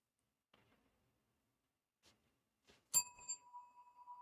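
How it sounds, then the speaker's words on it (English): A single bell is struck once and rings on with a clear, sustained tone that slowly decays, preceded by a few faint taps; no talking is heard. "Learning how to play the bell, not just bonk it."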